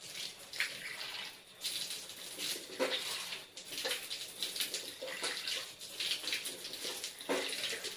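Tap water runs steadily during ablution while the mouth is rinsed, a close, continuous splashing gush with uneven bursts and swells as the water breaks over hands and basin.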